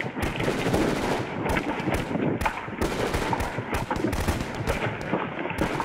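Sniper gunfire from a window during the Russia-Ukraine war: a loud, rapid run of sharp cracks and bangs comes close together without pause, each shot sharp against a rumbling background.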